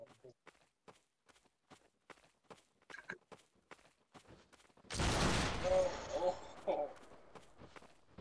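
Musket fire erupts in the Battle Grounds III line-battle game: after a run of quick footsteps, a loud volley of gunshots bursts out at once, rolling into a crackling echo with a brief ringing tone.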